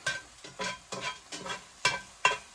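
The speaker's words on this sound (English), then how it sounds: "I'm just gonna get this like a flip. Get the other side cooking." Scrambled eggs in a cast iron pan being flipped with a spatula, six distinct scraping, stirring strokes in an uneven rhythm over a soft, low sizzle, close and fairly quiet.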